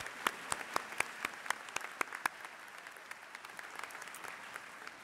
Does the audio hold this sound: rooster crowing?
no